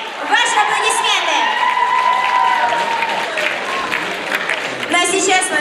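An audience applauds at the Minuta Slavy talent show qualifying round in a hall, with loud, sustained clapping under talk and a high melodic tone running through it.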